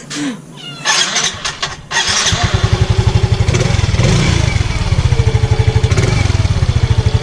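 A Yamaha Mio Soul i125 scooter engine starts after a few scrapes and clunks, then settles into a loud, steady rapid putter at close range during a rear wheel replacement, with no talking.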